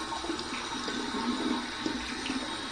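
Running tap water splashing steadily during a warm and cold face rinse after shaving with a Pal Injector adjustable razor, a continuous close rush of flowing water heard alone.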